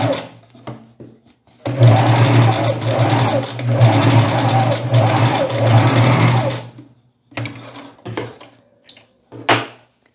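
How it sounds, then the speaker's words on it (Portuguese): A sewing machine runs topstitching close along the fly fabric of a shorts set, steady close bursts of rapid stitching between short pauses, with light handling noises around them. "Vou passar aqui a costura de pesponto rente em cima do tecidinho aqui da braguilha."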